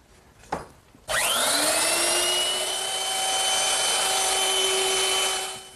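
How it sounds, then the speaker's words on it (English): A router fitted with a 1/4-inch bit, used to lightly ease wooden edges, starts with a click. It whirs up to a loud, steady high-pitched whine, holds it close by and begins to wind down at the end. "I'm just going to use my router, and I've set it up with a 1/4-inch bit"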